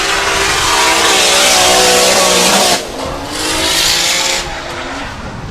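Nissan drift car running a Toyota 2JZ engine at Teesside during a British Drift Championships qualifying run, loud screeching tire squeal over a roaring engine, cutting off briefly before a second squealing burst, close and intense.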